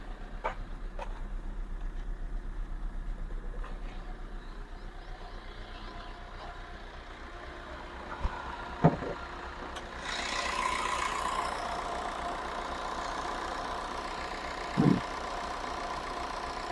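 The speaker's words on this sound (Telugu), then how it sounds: "ఇంజన్ కూడా చాలా నాయిస్ తక్కువ ఉంది, చాలా స్మూత్ ఉంది ఇంజన్ కూడా" Maruti Ritz VDI diesel car idling, its engine humming low and steady at a moderate distance. A few faint clicks and short thumps come and go over the idle.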